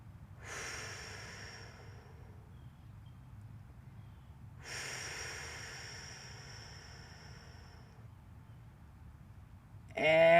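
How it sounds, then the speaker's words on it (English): Two long, deep breaths are drawn and released during a slow stretching exercise, each a soft, airy rush lasting a couple of seconds, close and quiet, with a brief louder rustle at the end. "Focus on that breathing."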